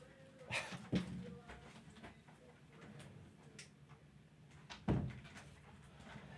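Two sharp bangs, a few seconds apart, sound like a door knocking against its frame in a quiet room, with small rattles and faint movement in between.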